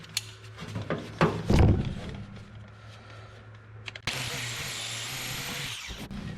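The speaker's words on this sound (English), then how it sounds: "drill those spot welds out" Scattered clanks and bumps of handling metal give way to a steady high-pitched whine of a power drill drilling out spot welds in the cab floor of a 1967 Kaiser Jeep M715, running for a couple of seconds.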